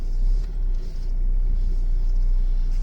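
A Kia Venga's engine rumbles low and steady as the car pulls away, a close, continuous drone with no voices over it.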